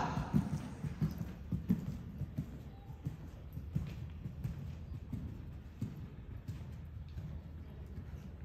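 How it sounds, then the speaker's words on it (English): Horse trotting on a dressage arena surface during a test, the warmblood stallion making steady, rhythmic clip-clop hoofbeats at moderate distance throughout, with faint ambient noise and no talk. "On the circle, transition to working trot."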